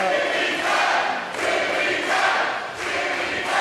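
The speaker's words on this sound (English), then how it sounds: "They're chanting Timmy Mack" A bowling-event crowd chants a name in a loud, rhythmic call repeated about three times, massed voices swelling and dipping at each phrase, filling a large hall.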